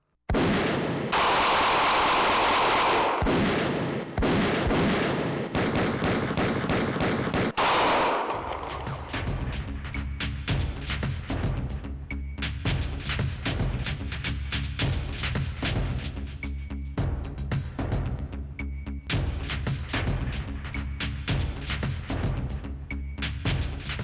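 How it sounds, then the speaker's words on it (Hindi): Gunfire in a crime story reenactment of a police shootout after a bank robbery: a dense, loud opening volley, then rapid rhythmic bursts of automatic fire that continue steadily throughout, with no talking. "अचानक ही मुल्जमान ने अंधाधुन फायरिंग शुरू कर दी"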